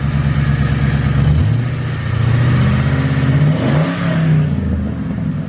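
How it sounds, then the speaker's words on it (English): A 2004 Crown Victoria V8 with a cat delete and single-chamber FlowMasters rumbles loudly up close through a leaky exhaust, its revs climbing and dropping a few times. "It's not bad, it's not quiet, but you can definitely hear this exhaust leak."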